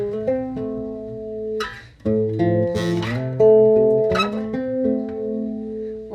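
A bass guitar plays a short melodic line of sustained low notes that shift in pitch, with occasional string slides and finger noise, alone.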